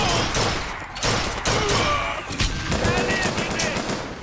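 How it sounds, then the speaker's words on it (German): Volley gun turret in Bioshock Infinite firing in heavy repeated bursts, loud and close, with rapid crackling shots broken by short pauses and a voice speaking briefly underneath. "Hier ist noch ein Salvengeschütz."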